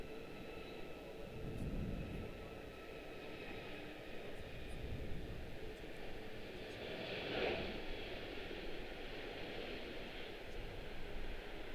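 Airliners moving at Washington Dulles International Airport, a faint distant jet engine rumble and whine swelling and fading across the stretch, with no talk.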